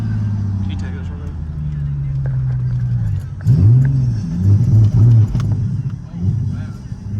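Nissan 350Z exhaust rumbling at idle, then several sharp revs that flare up and drop back, loud and close, with voices talking faintly over it.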